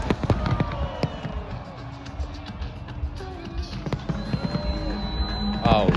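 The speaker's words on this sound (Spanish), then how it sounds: "10 minutos de fuegos artificiales" Fireworks display in Lisbon: scattered sharp bangs and crackles ring out over a noisy crowd, with whistling rockets rising near the end, fairly loud and irregular in rhythm.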